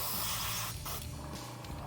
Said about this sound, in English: We're going to spray it until it is clean